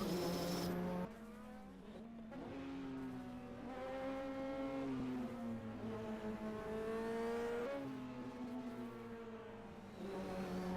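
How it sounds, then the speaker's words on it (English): A turbocharged race car from the 1978 DRM series at the Norisring circuit, its engine droning continuously with wavering, shifting pitch and turbo flutter mixed into the steady roar, with no talking. "Just hear the turbo flutter in the background."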